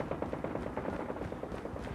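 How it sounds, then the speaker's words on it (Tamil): Rapid automatic gunfire in Call of Duty Mobile, a steady stream of faint, evenly spaced shots running continuously for about two seconds, distant and muffled. "சுட்டுட்டே இருக்காங்க"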